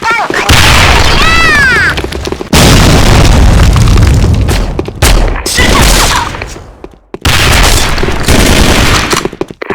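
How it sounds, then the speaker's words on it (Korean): A grenade explodes in the Sudden Attack shooter game, and heavy, loud booms mix with bursts of rapid gunfire in several dense clusters, broken by brief near-silent gaps. "수류탄 투척!"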